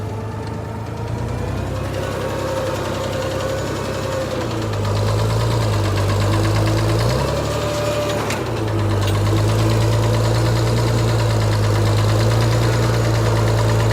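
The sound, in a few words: 1955 International Harvester pickup engine running in first gear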